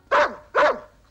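A dog gives two sharp, close barks in quick succession, each short and loud, followed by quiet.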